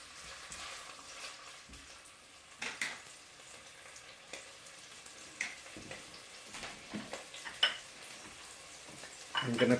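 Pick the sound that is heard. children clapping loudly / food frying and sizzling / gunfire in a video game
food frying and sizzling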